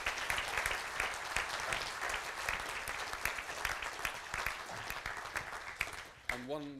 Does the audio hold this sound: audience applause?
yes